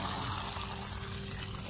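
Water pours steadily onto the soil of a potted avocado plant, a continuous close splashing trickle with an even, unbroken hiss and no talking.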